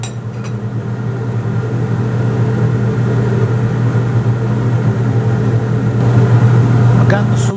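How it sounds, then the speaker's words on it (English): A magnetic stirrer hot plate spins a stir bar in a solution, a steady low motor hum with a faint rattling whir, constant and fairly loud, with a brief clink near the end. "This is a magnetic stir with a hot plate"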